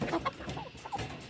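Soft, scattered clucking from a few hens nearby, short murmuring calls spread through a low, steady background.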